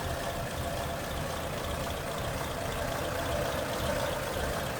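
A 1948 Mercury 8 89-M engine idles steadily with a low, even rumble and no changes in pitch, heard close up with no voices.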